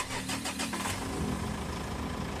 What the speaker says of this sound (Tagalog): At dahil okay na, pa-start ko itong makina.